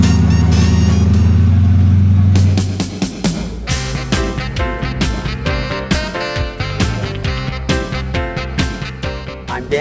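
A muscle car at an outdoor cruise-in car show idles loudly up close, then settles into a rough, lumpy rhythmic rumble with repeated pulsing beats.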